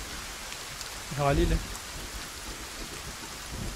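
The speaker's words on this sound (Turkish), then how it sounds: "Yağmur yani." Rain in the video game Sons of the Forest, a steady wash of falling drops throughout, with a short spoken word briefly rising over it.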